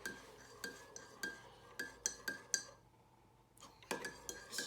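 A metal tablespoon clinks repeatedly against a ceramic coffee mug while honey is stirred into coffee, a quick irregular series of bright taps, a brief pause, then more clinks, close and fairly quiet.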